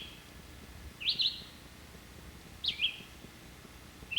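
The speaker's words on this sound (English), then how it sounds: "Listen to the birds singing." Birds singing in quiet woods, with a few short chirping phrases repeated every second or so, fairly faint over a soft background hush.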